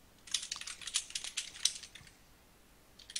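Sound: typing on a keyboard

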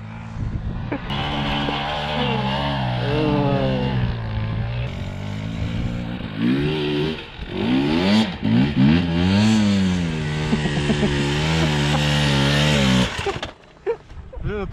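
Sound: dirt bike engine revving

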